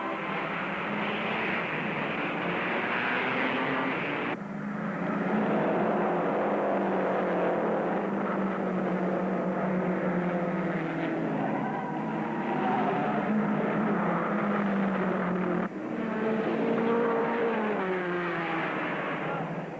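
Race cars at a 1960 British motor racing event, archival recording: a continuous loud engine roar with rising and falling pitch as cars pass, with brief breaks where the shot cuts.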